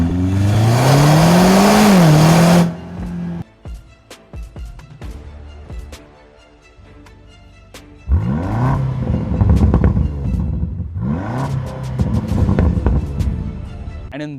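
Land Rover Defender Octa with a BMW-sourced 4.4-liter V8 revving loudly, a sustained roaring rev rising and falling, then a lull of idle burble before two more sharp throttle blips and revs, close and powerful.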